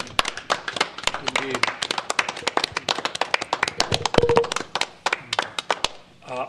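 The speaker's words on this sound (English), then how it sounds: "I'm going to give you a little applause" A small round of hand clapping at a plan commission meeting, a steady run of sharp, close claps lasting several seconds, with a brief spoken word partway through.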